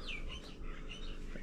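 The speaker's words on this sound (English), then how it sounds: "And you can hear a bird chirping out there." A single short bird chirp sounds at the start against a steady outdoor hiss in the early morning, around 5 a.m., with fainter chirps further off.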